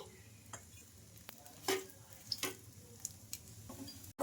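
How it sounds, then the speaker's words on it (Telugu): Dosa batter of peanuts and green gram fries on a hot pan with a faint, steady sizzle, broken by a few soft clicks and scrapes of a utensil. "ఇలా బాగా రెడ్గా కలర్ వచ్చే వరకు అయితే ఫ్రై చేసుకోవాలి మనం దోశను"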